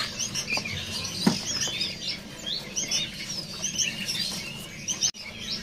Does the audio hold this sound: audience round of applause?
no